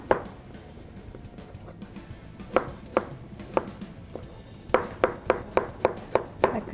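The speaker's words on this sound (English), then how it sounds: "We'll just go ahead and chop this." A knife chops watermelon on a cutting board in a run of sharp, close thuds, sparse and uneven at first, then quicker and more regular toward the end.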